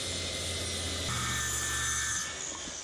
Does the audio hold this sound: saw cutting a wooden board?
yes